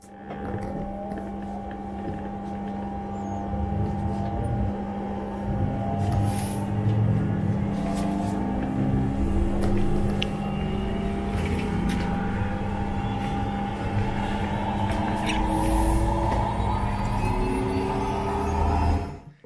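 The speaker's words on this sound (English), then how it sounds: "hear this aircraft come to life" Twin jet engines of a Learjet 45 spool up from inside the cabin, a steady rising whine with a low droning hum that builds gradually and holds loud and constant before cutting off at the end.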